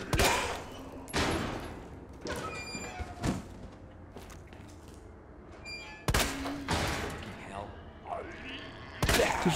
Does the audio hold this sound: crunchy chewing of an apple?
no